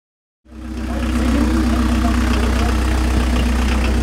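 David's grey Caddie car starting up, its engine quickly settling into a loud, steady idle with a deep, even hum, close by and with no talking.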